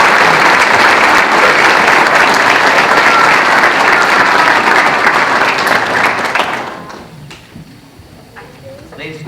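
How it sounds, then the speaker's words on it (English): A large crowd at a police promotion ceremony claps in sustained, loud applause that fades out after several seconds, leaving a quieter room. "How about a big round of applause for all of us?"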